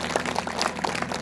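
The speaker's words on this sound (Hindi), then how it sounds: "जोरदार ताली बजाओ उनके लिए" A crowd claps loudly and steadily throughout a short stretch at a religious Bhagavat Katha gathering in Neem Ka Thana, Rajasthan, a dense wash of many hands with no voices on top.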